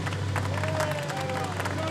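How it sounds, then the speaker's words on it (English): Crowd applause for the Mini Challenge race winner on the podium at Rockingham: a steady, dense wash of clapping and cheering throughout, over a low constant hum. "a big round of applause for F56 and overall race winner Charlie Butler Henderson"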